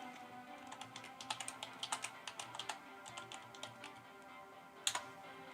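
Keystrokes clatter on a computer keyboard in quick, uneven bursts as a password is entered, each tap crisp and fairly close, with one sharper, louder key strike near the end and no talking over them.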